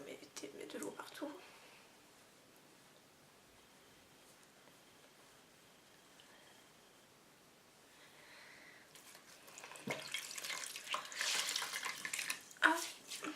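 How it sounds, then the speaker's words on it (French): Water splashing and running while a face is washed, soft trickling at first, then louder bursts of splashing near the end, with talk heard during the clip. "On va mettre de l'eau partout."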